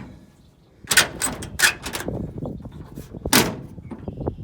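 Several sharp car door thumps and slams, fairly close, with a few loud bangs spread across a few seconds and some rattling in between.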